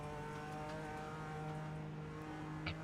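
A GT3 race car closing in on a BMW M4 GT4 at the Nürburgring 24 Hours in iRacing, heard as a steady droning engine tone with a brief sharper edge near the end, fairly faint throughout.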